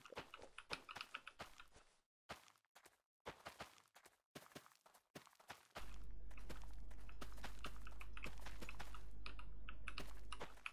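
Typing on a Logitech computer keyboard, near and clear: bursts of quick clacky keystrokes with short pauses, then steady rapid typing over a low continuous hum.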